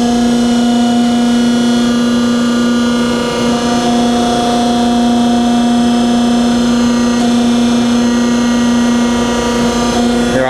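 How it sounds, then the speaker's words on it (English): A Denison 8-ton C-frame hydraulic press with its hydraulics running, giving a loud, steady electric motor and pump drone with a strong tonal hum, close and unbroken throughout. "So we'll go ahead and start the hydraulics and show you how it works."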